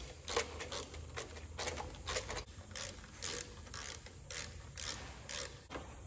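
Parts being screwed onto the starter of a John Deere lawn tractor during a starter or solenoid repair, with steady close-up ratcheting clicks repeating in a quick even rhythm over several seconds, no talking.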